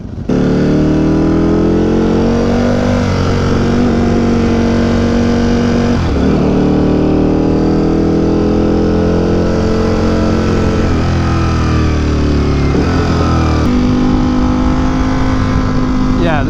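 A Ducati Panigale V4 Superleggera superbike engine revs hard against its soft limiter, a loud, close, continuous high-pitched wail that dips and climbs several times across the stretch.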